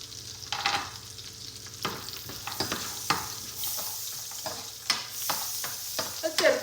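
Raisins and cashews roast in melted butter, giving a soft close sizzle broken by repeated scraping stirs and small clacks of a spoon against the pan.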